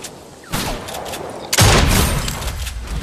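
Gunfire in Fortnite Mobile, with two sharp shots, the second louder and closer, each followed by a brief rumbling tail over quieter game ambience.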